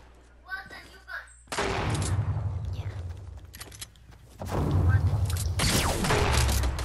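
Gunfire in a first-person shooter video game: rapid bursts of automatic fire in two long loud stretches, with quieter clatter and brief voices between them.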